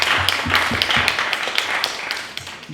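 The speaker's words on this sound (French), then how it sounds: "Applaudissez le Seigneur pour ce qu'il fait." A church congregation claps in a loose, spaced rhythm of distinct hand claps, fairly close and clear, with some faint voices behind.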